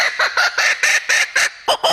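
A laughing kookaburra giving its territorial call, a loud, close burst of rapid, rhythmic cackling notes in quick succession, heard alone.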